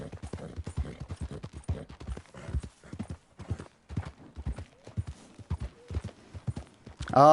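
A horse in the video game Red Dead Redemption 2 trots along with a brisk, even clip-clop of hooves, close and clear, ending in a short whinny.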